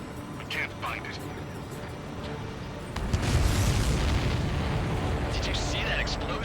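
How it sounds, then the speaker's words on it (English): A supply ship blows up in the flight game Ace Combat 7: a heavy, rumbling, broadband explosion erupts midway and sustains a roaring boom, preceded by quieter whooshing and crackle. "Did you see that explosion? Looks like that's one of them down."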